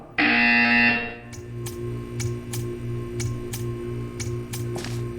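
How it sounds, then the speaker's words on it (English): A loud harsh buzzer blares for about a second in the video game Portal 2, followed by a steady electronic hum and a series of faint regular clicks. "You will hear a buzzer."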